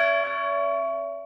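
A single bright electronic chime rings out, its steady tones sustaining and slowly fading with nothing else around it.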